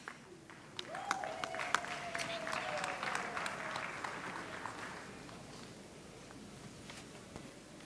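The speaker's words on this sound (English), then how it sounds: "Let's have another round of applause" Applause for graduates fills a hall at a university campus graduation ceremony. A crowd claps steadily for several seconds before it fades, with a voice rising briefly over it near the start.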